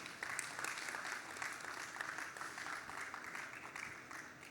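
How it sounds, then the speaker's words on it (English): Steady applause from a business aviation conference audience, dense clapping that holds evenly for several seconds before beginning to taper off. "Please give a round of applause for our sponsors."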